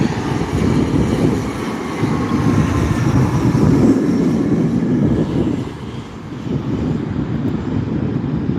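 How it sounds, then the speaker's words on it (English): An Embraer 175 airliner passes at night near SNA, a loud, steady broadband jet roar that holds for the whole stretch and dips briefly near the end. "And here's the Embraer 175."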